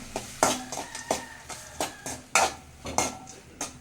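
A utensil stirring tomato rice in a metal pot, scraping and clinking against the sides in regular sharp strokes about every half second, close and clear with nothing else over it.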